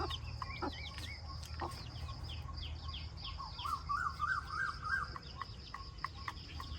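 Chickens, including a mother hen with chicks, cluck and call in a steady outdoor chorus in a garden during a rainy spell, with a run of rising squawks in the middle, over a low constant background hum.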